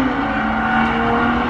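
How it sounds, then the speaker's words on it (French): A Porsche 911 GT3 RS engine holds a loud, steady high-pitched drone at constant revs, close and sustained throughout with no pauses. "fait un beau bruit la Porsche"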